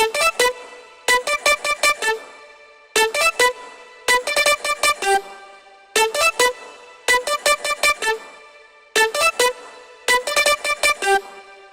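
A bright future bass synth melody plays in short bursts of rapid staccato notes, repeating in phrases separated by brief gaps, with bouncy rhythmic energy.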